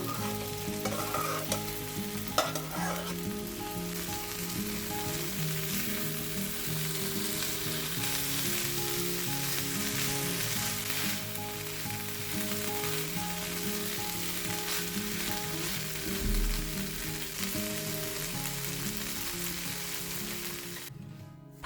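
Cooked bulgur and chicken fillet stirred in a frying pan, sizzling steadily and loudly throughout with a spoon scraping through the mix, and no voices.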